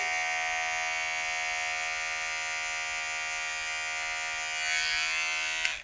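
An electric beard trimmer with an adjustable lever buzzes steadily and close while trimming a beard, its hum constant for nearly six seconds before a brief click and cut-off.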